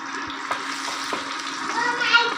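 Panch phoron, a Bengali five-spice mix, crackles and sizzles in hot oil alongside cardamom and cinnamon, a close, steady frying hiss with small pops throughout.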